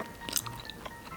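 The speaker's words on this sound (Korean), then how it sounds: "초코칩이 오독오독 씹히니까 그게 되게 좋네요" Crunchy chocolate chips in a brownie being chewed close up, a few soft, quiet bites with small crackly crunches and moist squishing.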